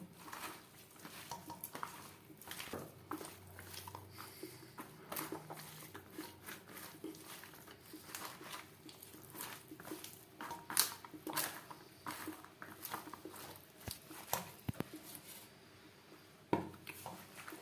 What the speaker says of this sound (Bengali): কাঁচা সরষের তেল, সমস্ত উপকরণ দিয়ে বেশ ভালো করে মেখে নেব।